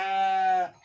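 A sheep gives a single short, clear, close bleat on a steady tone that cuts off abruptly, with nothing else around it.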